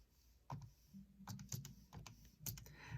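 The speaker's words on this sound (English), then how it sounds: "now I just have to type 10 divided by sine of 40 into my calculator" Numbers are tapped into a calculator as a quiet series of short, irregular clicks and taps, close and soft against a faint room hiss.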